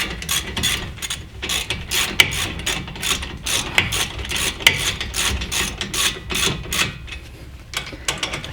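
A ratchet wrench tightens a bolt on the front brakes of a Toyota Sienna, a steady run of fast, loud clicking close up that continues without pause, with no voice over it.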